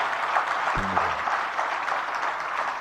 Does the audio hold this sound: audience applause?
yes